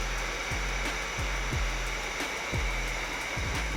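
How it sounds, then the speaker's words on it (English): A heat gun blows steadily on window tint film while it is shrunk to fit a car window, a constant close airy whoosh with a few low thumps along the way. "But keep your heat gun at a distance."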